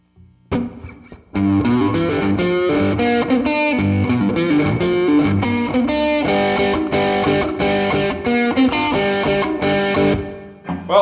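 Guitar through a Fender Bassman 5F6A amp with light drive and reverb: a loud, steady run of distorted strummed chords and riffs lasting several seconds, up close and without voices.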